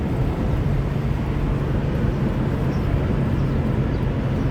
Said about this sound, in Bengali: এই যে একটা মেট্রো।